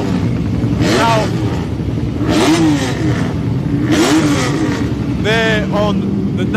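Westlake 900 MLS-equipped classic sidecar racing outfit at a Pre-TT race, engines revving and rising in pitch as machines pass close by, loud and repeated, under a commentator's voice.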